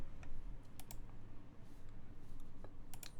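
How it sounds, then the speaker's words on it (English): Typing on a custom-built DD-40 mechanical keyboard with a force-break mod, heard as a quiet, uneven run of soft, close key clicks and taps over a low background hum, with no voices. "It does feel and sound like a keyboard,"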